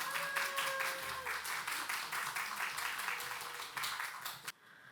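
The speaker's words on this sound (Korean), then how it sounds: "따뜻한 박수로 같이 맞이하면 좋겠습니다" A church youth congregation gives warm clapping to welcome a student testimony speaker, a fairly quiet patter of hands with a faint voice underneath, stopping abruptly near the end.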